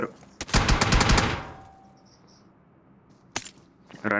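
Gunfire in a shooter video game: a rapid automatic burst of close, loud shots, then a pause and one more sharp crack near the end.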